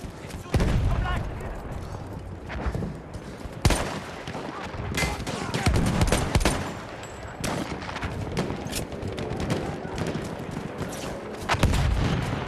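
Rapid gunfire and booming blasts from a new scout-class pistol in the video game Battlefield 1, loud bursts repeating through a busy battlefield mix with other weapons and explosions around.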